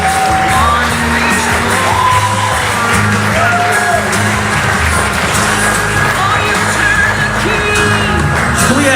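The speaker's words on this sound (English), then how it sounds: "Let's give a round of applause out there" Wedding guests at a reception applaud and cheer, with loud continuous clapping, whoops and yells over steady background music, and voices shouting through the crowd noise.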